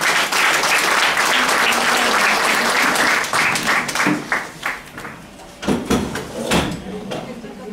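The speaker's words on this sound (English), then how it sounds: "Please welcome him with a round of applause." Audience applause welcoming a classical vocalist at a concert: a dense, sustained roar of clapping for about three seconds, then breaking into scattered, fading individual claps with some shuffling.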